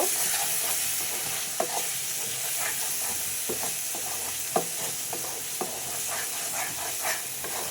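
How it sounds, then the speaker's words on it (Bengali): Chili and cumin powder frying in a pan for a dried lota fish curry, a close, steady sizzle and hiss broken by repeated scraping clicks of stirring, with no voices. "এখন সুন্দর করে আমি মশলাটাকে ভেজে নিব, নাড়াচাড়া করে নিব।"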